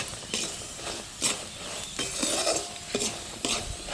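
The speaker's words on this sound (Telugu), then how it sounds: "కారం వేసుకుని ఒకసారి మిక్స్ చేసుకోండి" Goat dobba fry being stirred in a pan after chili powder goes in, with repeated scraping strokes over a steady sizzle, close and fairly loud.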